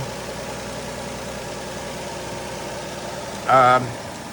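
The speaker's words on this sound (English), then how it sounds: "this is the best sounding engine I've ever heard" A Nissan Murano engine idles steadily with a low, even rumble throughout, a brief louder burst near the end.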